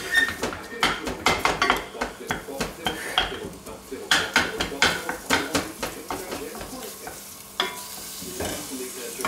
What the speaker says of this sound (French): On fait revenir tout ça. Rapidement, hein, un petit peu de beurre.